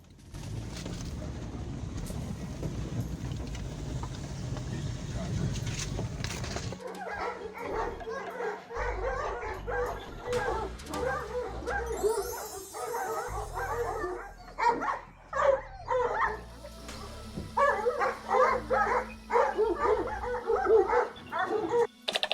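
Caucasian Shepherd dogs barking at a kennel in Chernihiv, Ukraine, several deep repeated barks and yips in irregular bursts after a stretch of low rumbling background noise, fairly close and loud.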